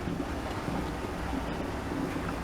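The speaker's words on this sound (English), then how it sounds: "Seems like it's taking forever for this stuff to boil, but it's bubbling in there." A pot of okra boiling on the stove for water-bath canning: a steady, close, dense bubbling hiss that runs without a break.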